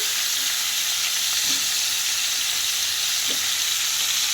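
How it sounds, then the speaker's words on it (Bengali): Green banana and potato pieces fry in a pan with a loud, continuous close sizzle and hiss, broken by a couple of soft stirring scrapes, with no talking. "এই দেখো আমি কলা আলুটা কষাচ্ছি"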